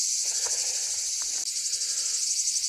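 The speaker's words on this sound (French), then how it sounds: "il y a un nid d'abeilles dans le trou du portillon là" Bees buzzing steadily from a nest inside a hole in a metal gate on a mountain hiking trail, a continuous close insect drone with no talk over it.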